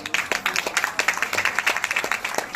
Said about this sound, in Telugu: చప్పట్లు కొట్టి మీ సంతోషాన్ని వ్యక్తపరచండి